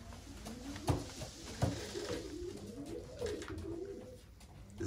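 Racing pigeons cooing in a loft, with soft, low, repeated coos close by and a couple of sharp wing or shuffling thumps.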